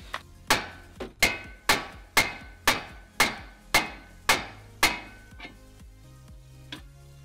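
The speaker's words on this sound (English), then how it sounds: "because you are replacing that ball joint, you can whack the fuck out of that stud if you want" Ten sharp metal hammer strikes on a ball joint stud during a Nissan 240SX S13 suspension rebuild, evenly spaced, loud and ringing, then two lighter taps at the end.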